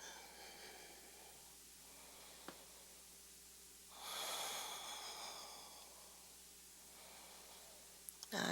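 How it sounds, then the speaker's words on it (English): Deep slow breaths during a yoga twist, one long audible inhale-exhale with a softer breath a few seconds later, close and quiet with no talk. "Breathing as deeply as you can in the twist."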